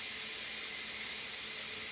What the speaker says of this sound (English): You don't want it releasing the steam right underneath your cabinets.